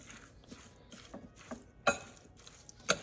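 Soft, wet scraping and stirring of berries in a bowl, with a few light clinks of a utensil against the side; quiet and close, no talking.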